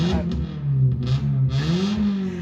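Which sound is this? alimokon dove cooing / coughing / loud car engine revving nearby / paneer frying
loud car engine revving nearby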